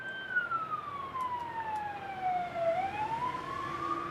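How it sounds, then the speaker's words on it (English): A police or emergency siren wails outside beyond a closed window, one long falling then rising sweep, distant and muffled but steady throughout, with no talk over it. "Can you hear that siren?"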